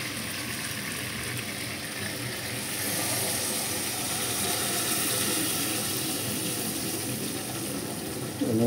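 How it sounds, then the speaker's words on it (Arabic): Water poured into a cooking pot while making Iraqi bulgur maqluba, a steady hissing, splashing flow running for several seconds, fairly close and moderately loud, ending in a brief sharper burst. "هنا راح نضيف المي."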